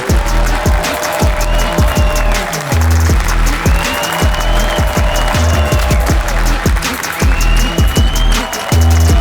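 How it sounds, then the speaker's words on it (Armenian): An audience at a stand-up comedy club show claps loudly to welcome a comedian onstage, a sustained wash of applause blended with pounding, rhythmic music. "բարձր ծափերով դիմավորեք"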